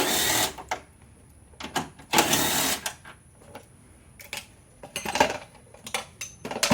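Small 10mm headlight bolts being loosened and removed with hand tools on a 2008-2014 Kia Soul, giving several sharp metallic clicks and ratcheting bursts spaced irregularly, close and fairly loud with quiet gaps between.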